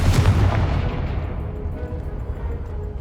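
The Confringo fire spell in the Hogwarts Legacy video game sets off a deep booming blast that hits hard at the start and then fades into a low rumbling decay, with no talking.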